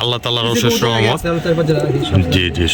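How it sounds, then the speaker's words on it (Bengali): Pigeons kept at a household pigeon farm coo in steady, rolling throaty calls, close and fairly loud, filling the short moment. "বাড়ির কিছু কবুতর দেখা দিলেন"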